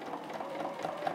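A sewing machine runs steadily as it stitches binding onto a quilt block, giving a quiet, even mechanical hum with a rapid needle rhythm and no voices.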